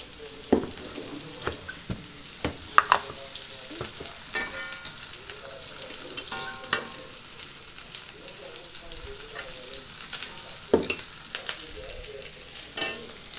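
Cooked rice tipped into a hot pan and stir-fried for quick homemade fried rice gives a steady close sizzle, with frequent spatula clicks and scrapes throughout and no talking.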